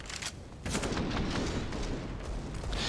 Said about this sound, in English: Here it is, tabseN with the AK